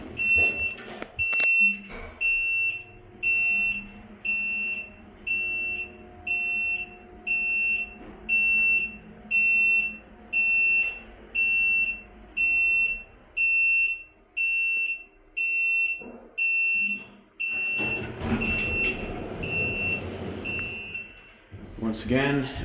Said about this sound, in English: Alarm will sound.